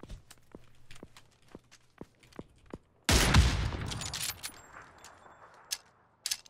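In PUBG, footsteps tick steadily before a sudden loud blast erupts and rumbles away into scattered debris and a couple of later cracks, with a faint tonal hum beneath.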